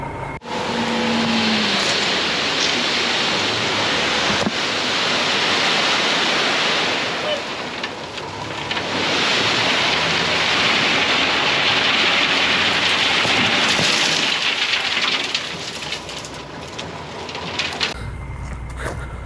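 Water rushing steadily through a newly installed culvert pipe at an outdoor dig site, a loud continuous broadband roar like surf that holds for most of the stretch before cutting off near the end.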